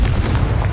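A Confringo explosion spell goes off in the Hogwarts Legacy video game during a fight with poachers: a single dense, loud, booming blast that fills the brief moment with heavy low rumble.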